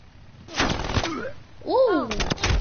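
An enemy sentry turret fires in an online shooter game in short, loud, rattling bursts, with a voice talking between and over the shots.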